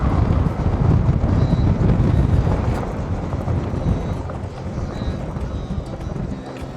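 Wind rushes steadily during a Honda PCX scooter ride along the coastal road from Gemlik to Armutlu, a loud broadband roar buffeting the microphone, easing a little in the second half.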